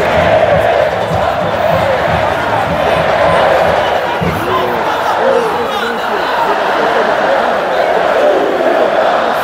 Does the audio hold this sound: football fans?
yes